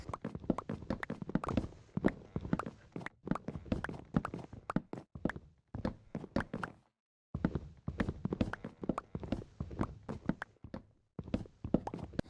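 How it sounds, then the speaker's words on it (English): Trees chopped in Minecraft Pocket Edition: rapid, repeated blocky wooden hits in a steady rhythm, broken by a short silent gap midway, with no talking. "I started chopping down trees."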